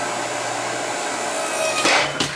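Earthquake 5 ton electric log splitter running steadily as it pushes through a large dry log with some termite damage, a constant motor hum with a couple of sharp cracks as the wood gives way near the end.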